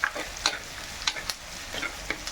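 Food frying in a pan in a Kerala kitchen, with a soft continuous sizzle and repeated scraping clicks of a spoon stirring at an irregular rhythm, close and fairly quiet.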